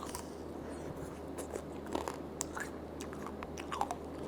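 Someone bites into a sugar-coated apple tanghulu and chews it, making close, crisp crunches in an uneven rhythm against a quiet background.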